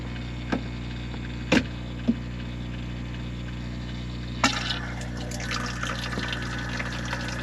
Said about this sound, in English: Dump the water, and yeah, you're going to get water in the bottom of your freezer